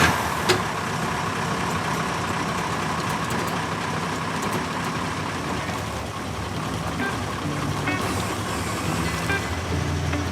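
Camper van engine running steadily as the vehicle pulls out of its parking spot, a continuous low idling rumble close by with a brief toot near the start and no voices.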